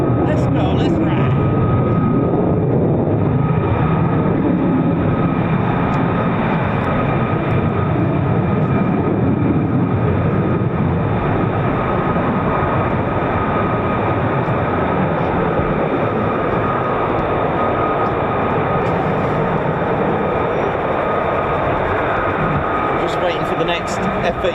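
F-35 fighter jet at RAF Lakenheath, a steady loud broadband roar sustained throughout, with voices faintly in the background.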